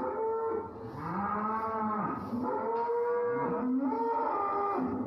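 Cattle held in a restraint crate moo repeatedly, several long, close, loud calls that rise and fall in pitch, one after another with short breaks between them.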